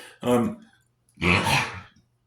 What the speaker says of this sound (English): that's how I have to burp because otherwise I get nauseated